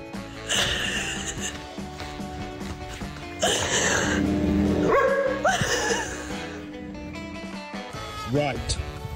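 A dog barks and yips in a few short bursts, tangled with people talking and other household noise in a busy domestic scene.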